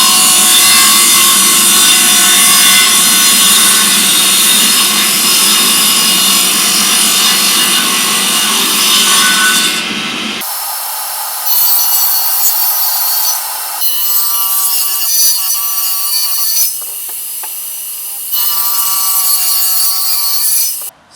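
Circular saw cutting wooden parts for a homemade hot tub, loud continuous rasping bursts, then stopping and starting in shorter runs with pauses, the blade whining between cuts close up.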